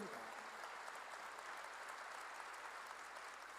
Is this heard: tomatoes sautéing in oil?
no